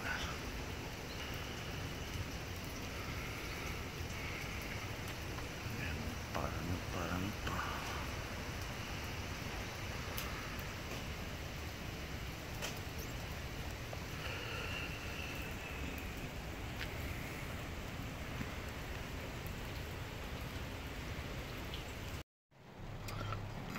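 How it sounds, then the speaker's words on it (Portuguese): Heavy, steady rain falls continuously over a long stretch, a dense, even wash of drops that stays loud and unbroken before cutting out abruptly near the end. "tá chovendo bastante"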